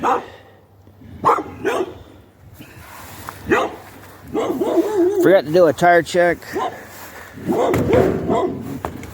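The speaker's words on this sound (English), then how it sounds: "The neighbor's dogs are over here." The neighbour's dogs bark in repeated loud bursts and yips from nearby, mixed with someone talking while loading a work truck outside by a garage.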